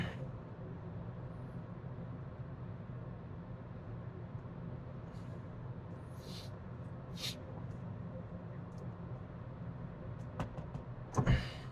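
Steady low road and engine hum inside a BYD Atto 1 Seagull electric hatchback driving through Shanghai traffic, with a few faint clicks and a brief thump near the end.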